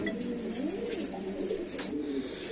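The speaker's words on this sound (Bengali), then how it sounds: "এখানে আরো একবার আমরা সিলভার কালার কবুতর দেখতে পাচ্ছি" Silver-coloured Lahori pigeons at a pigeon sale coo softly nearby, a few rolling, throaty calls in quick succession over a low background hiss.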